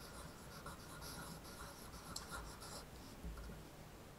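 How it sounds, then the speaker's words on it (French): A child writes on paper with a retractable pencil whose lead twists out. It makes soft, close, continuous scratching strokes that are faint, steady and alone, with brief pauses between marks. "Ensuite, l'enfant peut écrire."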